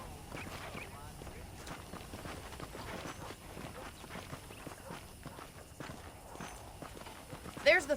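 Horse hooves clip-clop in a steady trotting rhythm on a dirt path in the Red Dead Redemption game, moderately loud under game music and ambience.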